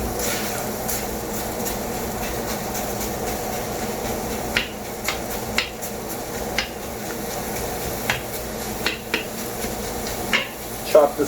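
A big pan is handled while mac and cheese is cooked, with scattered metallic clanks and scrapes over a steady kitchen hum and faint talk.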